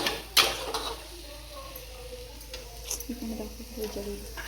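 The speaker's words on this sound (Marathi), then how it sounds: "मी भाजीला फोडणी टाकली आता" Tempering spices sizzle softly in hot oil for a vegetable dish, a quiet continuous crackle, with a sharp utensil clink near the start and faint movement sounds.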